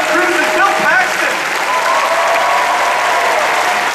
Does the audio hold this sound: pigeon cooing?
no